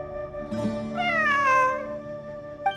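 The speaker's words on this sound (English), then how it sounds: "It really is a cat." A cat in the video game Genshin Impact meows in one long drawn-out call with a rising then falling tone, clear and close, followed by a brief second sound at the end; no talking.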